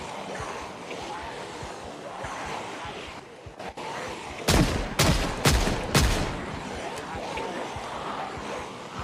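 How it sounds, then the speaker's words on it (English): Revolver gunshots in a zombie apocalypse survival video game set in Rosewood, a quick cluster of four or five loud sharp shots over steady ambient noise. "This revolver is only 5 bullets at a time."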